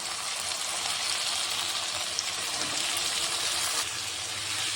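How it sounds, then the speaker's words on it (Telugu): Cauliflower and potato pieces frying in a pan with ginger garlic paste for a cauliflower curry give off a steady, close, broadband sizzle that holds level throughout, with no talking. "ఇప్పుడు మనం క్యాలీఫ్లవర్, ఆలు వేసేద్దాం."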